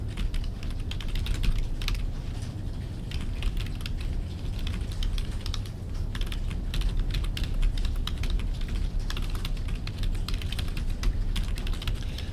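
Continuous, brisk typing on a computer keyboard, a dense stream of light clicking keystrokes at steady moderate loudness throughout, with no talking.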